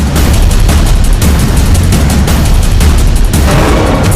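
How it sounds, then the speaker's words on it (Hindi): Gunfire from footage of the attack on Asaduddin Owaisi in Hapur, Uttar Pradesh, comes as loud, dense bursts of cracks and booms repeating through a harsh, distorted roar, with no voices. "ओवैसी पर फायरिंग का वीडियो"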